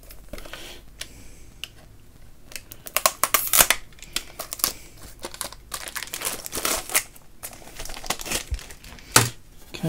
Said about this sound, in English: Trying to find a bit I can cut without cutting the packaging of the unit